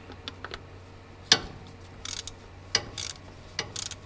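A wrench ratchets as bolts are tightened on a Kubota L48 hydraulic swing pump: sharp metallic clicks come in short, irregular bursts, close and fairly loud over a quiet background.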